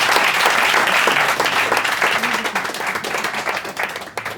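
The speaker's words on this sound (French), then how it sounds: "On peut l'applaudir," An improv show audience at a Paris festival breaks into loud, dense applause from many hands that holds steady and then gradually thins toward the end.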